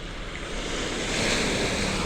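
Strong sea waves break on the shore as a steady, loud, broadband wash of surf, mixed with wind buffeting the microphone and swelling slightly toward the end, with no voices present.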